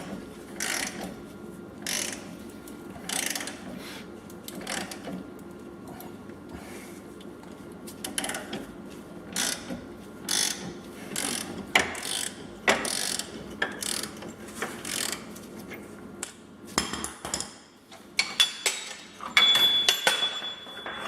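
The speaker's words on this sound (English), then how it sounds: "So this one should press in all the way. You can go ahead and crank it down." A hand-cranked press forces a new control arm bushing into place on a Jeep WJ Dana 30 front axle, giving repeated ratcheting clicks and metallic creaks at close range that grow louder and sharper toward the end.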